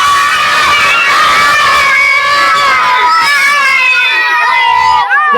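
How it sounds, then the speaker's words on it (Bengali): A big crowd of children shouts and cheers at a drone flight, loud and close, many high voices overlapping in a continuous excited din. "আর ভিড়টা দেখো, ছেলেপেলের ভিড়টা দেখো"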